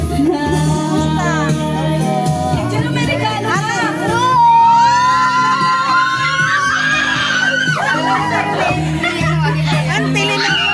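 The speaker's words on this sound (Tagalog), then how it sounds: "Ang tili na." At a birthday gathering, children shriek and squeal over and over, high and shrill, mixed with overlapping voices and general commotion throughout.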